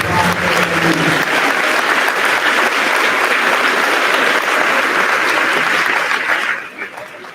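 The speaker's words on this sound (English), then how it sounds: "Let us please give them back the applause." An audience at an 8th grade awards ceremony applauds students, loud sustained clapping filling the room before fading out at the end.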